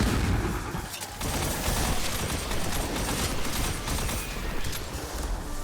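Repeated hand cannon shots ring out in Destiny, layered with dense, loud battle noise and steady rapid fire across the whole stretch, with one short dip near the start.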